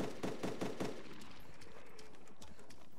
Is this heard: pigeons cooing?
no